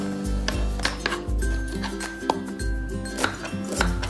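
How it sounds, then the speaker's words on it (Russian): A knife cuts a bell pepper into strips on a cutting board in an irregular rhythm, close and crisp, with low thuds and light clicks between strokes. "Перец также режем соломкой."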